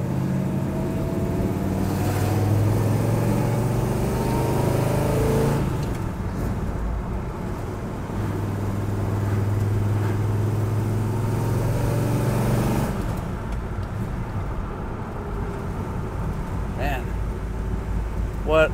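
A 1965 Pontiac GTO 400 V8 with a four-barrel carburetor and headers, pulling through the gears on the road, the engine note rising and dropping across several shifts with steady cabin and road noise.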